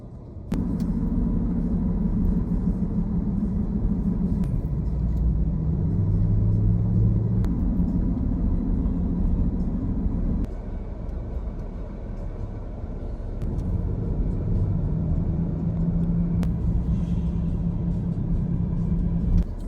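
A car creeps at a crawl through heavy traffic on a drive home, giving a steady, close, low engine and road rumble throughout with no talking.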